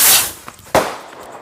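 A Diwali firecracker bursts outdoors in the hills after its fuse burns down, giving one sharp, loud crack that decays into a brief rumble, with an earlier blast fading away at the start.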